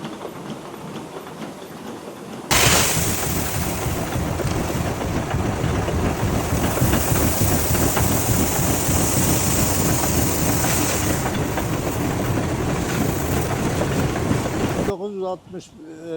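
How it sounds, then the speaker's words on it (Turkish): A centuries-old historic water mill starts turning: a loud, steady rush of water and rumbling machinery bursts in after a quiet start, runs evenly for several seconds, then cuts off near the end. "tarihi su değirmeni dönmeye başladı"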